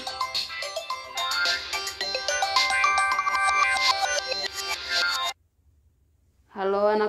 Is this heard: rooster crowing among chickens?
no